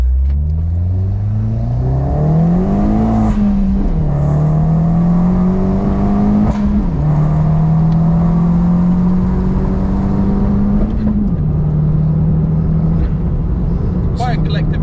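Vauxhall Corsa E VXR stage 3 tuned to about 250 brake horsepower accelerating hard, engine pitch climbing through repeated gear changes with brief dips between shifts, loud and close from inside the car.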